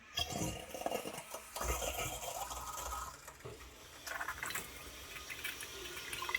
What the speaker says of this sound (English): Okay, the hot water's coming out.